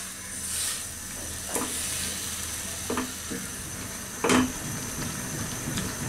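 Winter vegetables with a little salt simmer and sizzle in a pan while Chinese-style mixed vegetables cook. A soft, steady hiss runs throughout, broken by a few sharp clinks of a spoon or spatula against the pan, with no talking.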